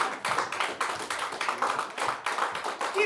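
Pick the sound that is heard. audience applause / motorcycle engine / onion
audience applause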